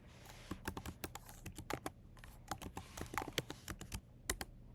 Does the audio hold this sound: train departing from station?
no